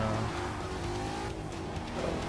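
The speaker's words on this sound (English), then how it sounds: "Here comes a car just barreling in there" A race car barrels into a tricky turn in Forza Motorsport 6 during a Mustang race, its engine droning loudly and continuously with a hint of tire squeal.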